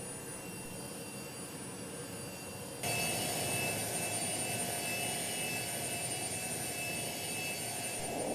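A steady roar of a Citation C-560XL jet engine in the AirSim3D flight simulator, muffled at first from the cabin, then abruptly louder and brighter with a hissing whine as heard from outside.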